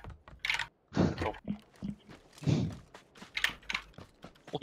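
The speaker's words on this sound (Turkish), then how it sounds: "Bir klavye kırmaya yani mı çalışıyor?" Fast, loud clacking on a computer keyboard during a PUBG match, dense irregular keystrokes close to the microphone.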